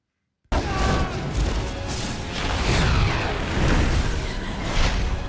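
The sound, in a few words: fireball shot exploding, Avatar The Last Airbender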